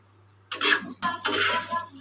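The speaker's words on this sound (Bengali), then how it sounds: "ঢেলে দেওয়ার পরে ভালো করে মিশিয়ে নেব।" Pasta being stirred and mixed in a pan with a utensil, giving two short bursts of scraping and clattering against the metal over a steady low hum.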